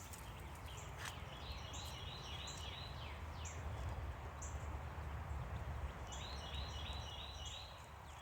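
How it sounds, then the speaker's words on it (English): Small birds chirp in short repeated phrases outdoors, faint and distant over a steady hiss of background ambience, with no talking. "Listen to the birds."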